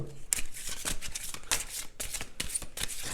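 Tarot cards shuffled and drawn by hand, a close, continuous riffle and slap of card stock with brief sharp snaps as cards come off the deck, no talking.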